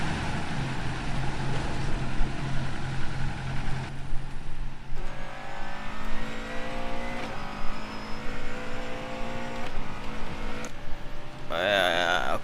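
Race car engines in the Second Life racing game rev and whine with rising and falling pitch sweeps as cars accelerate, with tire squeal and other cars passing, the engine sound steady under a voice talking.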